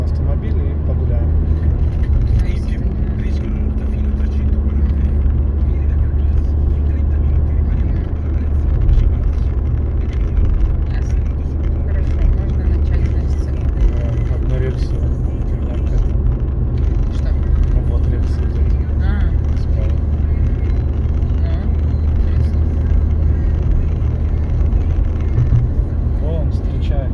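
Car engine rumbling steadily at low speed while pulling into a parking garage near Venice, a constant close drone with faint background noise and no pauses.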